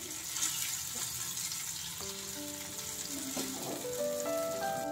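Paneer cubes sizzle and fry in a pan over a low gas flame, a steady close hiss with faint tonal clinks of a utensil running through it, heard alone without voices.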